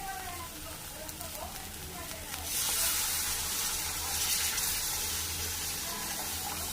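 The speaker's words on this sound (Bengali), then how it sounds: "মশলাটা কষা হয়ে গেছে, এবার দিয়ে দেবো জল।" Water pours into a pan of fried spice paste for a curd-style katla fish curry, setting off a steady loud hiss and sizzle that swells partway through and stays constant to the end.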